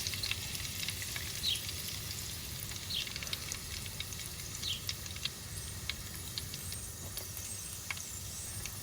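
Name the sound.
mustard seeds and curry leaves sizzling in hot olive oil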